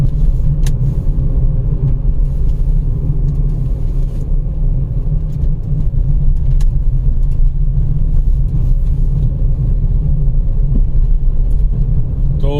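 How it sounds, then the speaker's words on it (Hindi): A steady low rumble of a vehicle passing during a night drive through dense forest in Jim Corbett National Park, continuous and fairly loud for the whole stretch, with a few faint clicks and no talk. "एक मिनट, ये गाड़ी निकल जाए।"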